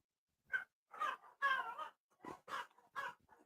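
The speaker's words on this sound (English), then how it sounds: "As soon as we start this fucking movie, my dogs want to start." Dogs let out a series of short yelps and whimpering barks, about seven bursts in quick succession, heard fairly close against a quiet background.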